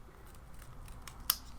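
A single sharp snip of scissors cutting through a planner sticker sheet, close and brief against a quiet room background.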